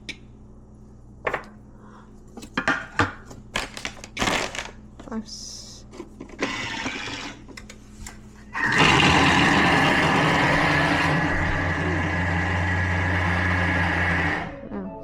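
A Thermomix food processor whirs loudly and steadily for several seconds after some clattering and handling noises, then cuts off abruptly.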